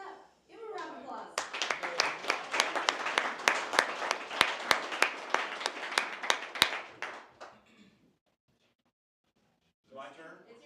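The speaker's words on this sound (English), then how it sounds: "Give him a round of applause" An audience at a team meeting breaks into applause, a burst of mixed claps building and then tapering off over several seconds before falling silent, with a voice returning at the end.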